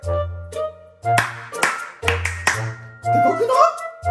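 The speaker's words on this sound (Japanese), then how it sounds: "拍手が爆発的" Loud, sharp hand claps at a soccer match, struck in uneven bursts over sustained voices or chanting.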